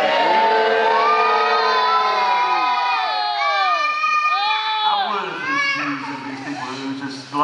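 A crowd of children shouts and jeers in a sustained, loud mass of high voices, rising and falling together in long overlapping calls throughout.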